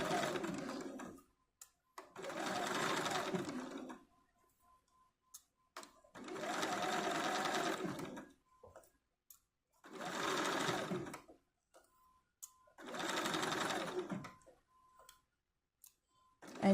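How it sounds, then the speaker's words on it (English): A sewing machine sews a small doll skirt seam in five short, evenly spaced bursts of steady whirring, close and clear, with light clicks in the gaps between runs. "sew slowly across that while I remove my pins"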